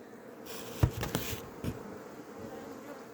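Honeybees, a hybrid strain, buzz steadily at close range inside a plastic thermo hive, a soft continuous drone with a few brief knocks and bumps near the start.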